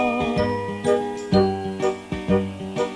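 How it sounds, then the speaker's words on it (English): Small bells tinkle in a bright, bouncy rhythm, several quick ringing strikes repeating over a few seconds. "Noddy, his twinkling bell means he's the happiest little fellow in all Toyland."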